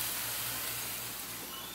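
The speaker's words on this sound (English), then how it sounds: "Listen to that sizzle." Thinly sliced chicken pieces fry in a hot pan with a steady, hissing sizzle heard up close, constant and unbroken throughout with no voices.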